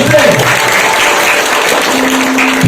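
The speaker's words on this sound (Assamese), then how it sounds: "হাত চাপৰি প্ৰভুৰ এবাৰ জোৰছে।" A church congregation claps for the Lord during a worship service. Dense, loud applause from many hands fills the whole clip, steady throughout, with voices mixed in.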